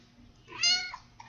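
A single drawn-out cat meow, fairly close and clear, rising then falling over about half a second, with quiet room noise around it.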